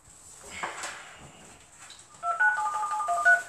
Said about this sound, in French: Et on appelle Anne